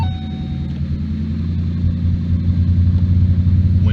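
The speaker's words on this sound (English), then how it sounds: "First turn the key to the on position and then start the engine." A 2011–2019 Ford Mustang engine catches and settles into a steady, deep idle rumble that grows slightly louder, close up and without talk.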